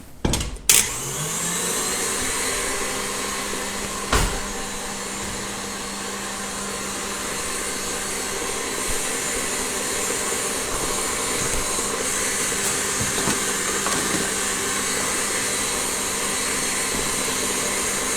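An electric mixer beats cake batter for a healthy buttercream cake, starting with a few sharp clunks before settling into a loud, continuous whirring drone that holds steady throughout, with no talk.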